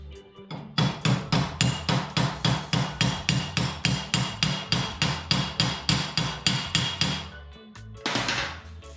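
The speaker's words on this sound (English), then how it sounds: "take my body hammer" Steady, rapid metallic blows from a body hammer flattening a frame notch support plate in a vise ring out, around two dozen evenly spaced strikes, close and loud, then a pause and a brief scraping rustle.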